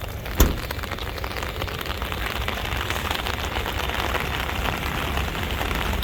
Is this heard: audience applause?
no